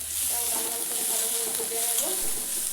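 Chopped onion sizzles steadily in hot oil in a pan that already holds fried garlic, with a dense, even crackle and occasional stirring scrapes throughout, close and continuous with no talk.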